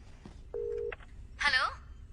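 A telephone gives a single short electronic tone for an incoming call, preceded by a faint tick and followed by a brief burst of voice.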